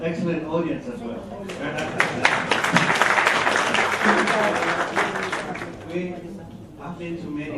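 An audience at a conference meeting breaks into applause, a dense burst of many hands clapping that swells for a few seconds in the middle, with a voice speaking before and after it.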